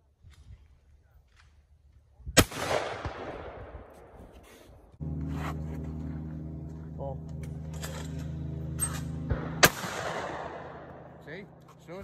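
Two loud shotgun blasts at a skeet range, sharp and close with echoing tails several seconds apart, separated by a steady low engine-like hum and faint clinks.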